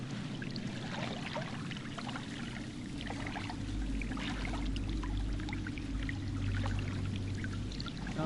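Deep, cold water moves in the video game Until Dawn, giving a steady churning, pouring wash that runs continuously and fairly quietly without any voices.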